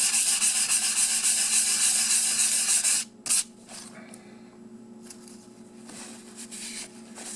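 Steady, close sanding with 320 or 600 grit wet-dry sandpaper on old model railroad rolling stock, a dense scratchy rub for about three seconds, then quieter scattered rubbing and handling.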